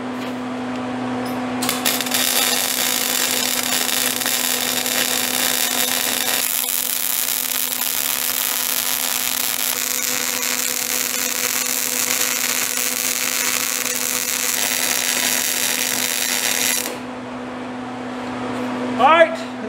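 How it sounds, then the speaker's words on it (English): Welding a joint on a steel weld table gives off a loud, steady crackling hiss that holds close and constant for about fifteen seconds before cutting off. "Let me weld this one up real quick."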